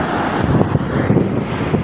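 Water pouring through an opened valve at a dam keeps up a steady, broadband rushing roar for the whole stretch, close and fairly loud, with no voices over it.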